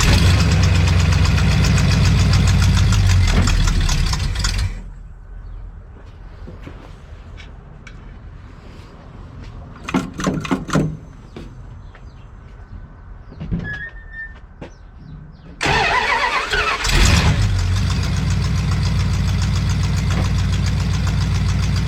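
A 1970 Plymouth Fury III fitted with a swapped 360 V8 rumbles loudly at idle, then cuts out for about ten seconds of near quiet with scattered clanks and knocks before firing back up to a steady, close idle.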